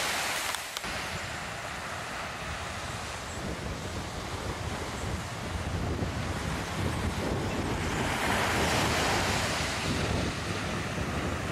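Ocean waves wash onto Murray's Beach, a white-sand beach on Jervis Bay, as a steady broad roar that swells louder toward the end, with wind buffeting the microphone and no voices.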